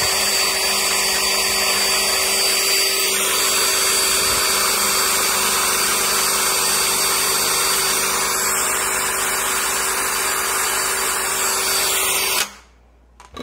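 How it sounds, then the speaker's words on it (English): A loud, steady high-pitched whirring of an electric drill driving a Singer 192K Spartan sewing machine mechanism continuously, then cutting off abruptly near the end. "now my drill is connected, if you can see, and I'm just going to get her started"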